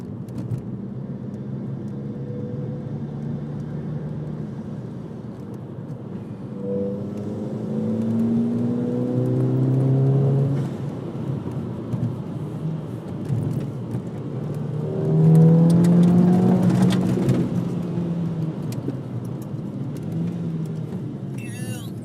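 A 2007 Volkswagen GTI engine revs twice, each rise climbing then falling away, with a steady idle hum between and people talking over it.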